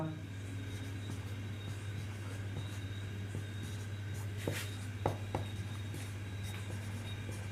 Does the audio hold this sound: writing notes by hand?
yes